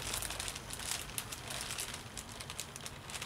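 A plastic bag crinkles and rustles as fingers fish a small key out of it for a Nissamaran 50lbs EcoMotorPro 12V trolling motor, a quiet, close, continuous crackling texture with no talking.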